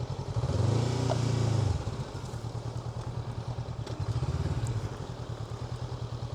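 A Honda motorcycle ridden along roads in the western Peloponnese, Greece, its engine droning steadily and close with two louder swells of revving, no talking over it.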